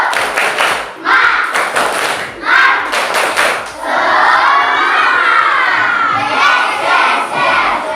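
A school class performs a rhythmic 'tepuk semangat' clapping cheer, loud and close, with patterned claps and children's shouted chanting that swells into sustained cheering.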